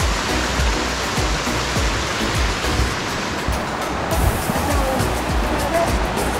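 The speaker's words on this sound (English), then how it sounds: "it's similar to a waterfall, except that it's more of a gentle slope over a distance like this. So this would be a cascade, not a waterfall." Water cascades down a gentle rocky slope on a hiking loop, a loud, continuous rushing wash with bubbling churn underneath, steady from start to end and heard up close without anyone talking.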